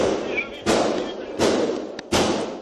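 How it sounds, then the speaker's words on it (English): Three heavy, sharp gunshots during the Covenant school shooting in Nashville ring out about a second apart, loud and echoing, with a fainter click between the last two. "Horrific sounds of gunfire ring through Nashville's Covenant Elementary School"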